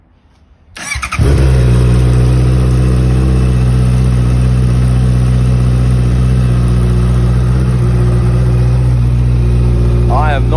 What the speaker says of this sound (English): I'll fire it up for another cold start